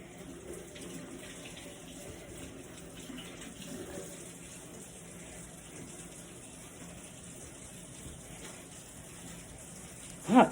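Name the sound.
tap running while washing hands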